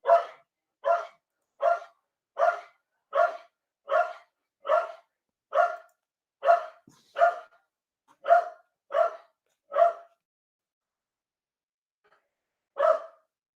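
A dog barking in a regular series of about a dozen sharp, evenly spaced barks close by, a short pause, then one last bark, with no talking.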